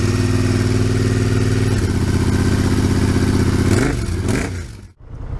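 A Triumph Bonneville motorcycle engine runs steadily and loudly up close at the exhaust, its low rumble shifting near the end before it briefly cuts out and picks up again.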